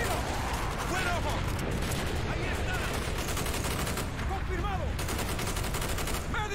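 Gunfire in Call of Duty: Black Ops, a continuous heavy fusillade of automatic fire with booming impacts throughout, with voices talking over the shooting.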